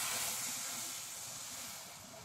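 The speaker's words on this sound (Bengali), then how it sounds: "এবার এই সম্বারটা সরাসরি ডালের হাঁড়িতে ঢেলে দিচ্ছি।" Hot tempering of oil with bay leaves and five-spice is poured straight into a pot of dal. It gives a soft, steady hissing sizzle that slowly fades, heard alone and fairly quiet.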